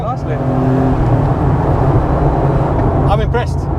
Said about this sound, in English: this is the first time I've actually been able to give the car beans